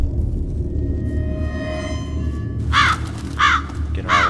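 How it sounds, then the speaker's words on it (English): Crows caw in a horror video game, three harsh, loud calls evenly spaced over the second half, above a low ambient rumble and a faint rising tonal drone. "Get out of the way, stupid crows."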